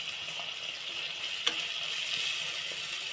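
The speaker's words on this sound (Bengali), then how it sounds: "আমি প্রথমে লঙ্কা গুঁড়োটা দেবো" Hot oil hisses in a steady, close sizzle as chili powder goes in, with a single soft clink partway through and no voices.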